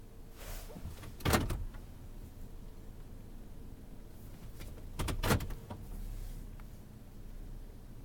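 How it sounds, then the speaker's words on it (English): Doors closing at an automatic car wash, heard from inside a car as two short, loud rattling clunks a few seconds apart over a steady background hum. "The doors are closing."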